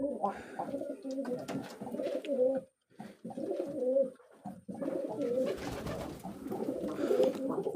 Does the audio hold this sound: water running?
no